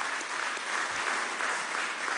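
Audience applause at an export-sector event with the Venezuelan president, a dense continuous wash of clapping throughout, loud and steady with no talk over it.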